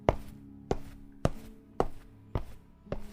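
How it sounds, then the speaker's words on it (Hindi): Light footsteps as a sound effect in a horror story: six soft, evenly spaced thuds about half a second apart, close and fairly quiet, with no voices. "हल्की पदचाप की आवाज आ रही थी।"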